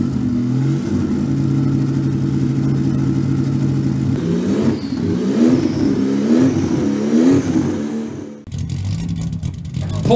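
Porsche 935 "Moby Dick", the most extreme 935 race car variant, revs its engine loudly and close, a steady high idle rising into several sharp throttle blips with rough exhaust bark.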